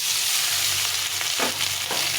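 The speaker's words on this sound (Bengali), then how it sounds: "এখন এই মাছের তেলে আমি আলুগুলো সেদ্ধ আলুগুলো একটু ভেজে নেব" Boiled potatoes frying in leftover fish oil in a home kitchen pan: a loud, continuous close hiss of hot oil with a couple of soft stirring strokes near the end.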